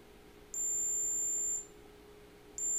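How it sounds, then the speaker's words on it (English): A DIY Arduino non-contact thermal scanner's buzzer gives a steady, high electronic tone for about a second, stops for a moment, then starts again. The tone is clear and loud with no voices. "as soon as the readings go above 37 degrees centigrade, the buzzer is activated"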